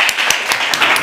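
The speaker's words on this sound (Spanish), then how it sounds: "Así que un aplauso para Triana y muy atentos" Audience applause fills a room at a program presentation, steady dense clapping throughout, fairly loud and close, with no talking.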